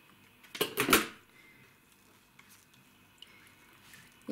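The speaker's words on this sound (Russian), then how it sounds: "Просто обрезаю ножницами." Several quick scissor snips close up, cutting something during orchid care with chemical treatment, followed by near silence with faint handling sounds.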